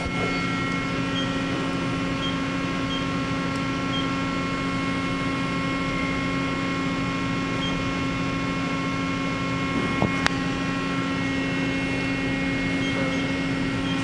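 A Mori Seiki NL-3000Y CNC lathe runs its C-axis, giving a steady machine hum with sustained tonal whine, constant and unchanging apart from a single sharp click near the end.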